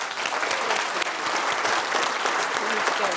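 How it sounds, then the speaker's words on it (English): A large audience applauds steadily and densely, a full wash of many hands clapping at once, loud and sustained without pause. "So I think you should all give yourself a big round of applause."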